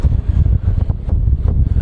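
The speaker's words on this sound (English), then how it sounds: "The wind's really picked up in the last 10 minutes since I've been out" Strong gusting wind roars across the microphone aboard a small sailboat on a solo sail, a loud, continuous buffeting rumble with rising and falling surges and no voices.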